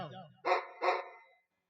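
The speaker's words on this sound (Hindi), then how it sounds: "अरे डरो नहीं, वो कुत्ता बंधा हुआ है।" A dog barks twice in quick succession at moderate distance, two sharp bursts following a brief stretch of faint voice-like sound at the start.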